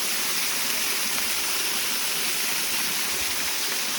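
A waterfall pours in a constant, loud, close rush of broadband white water that stays even for the whole stretch, with no other sounds standing out.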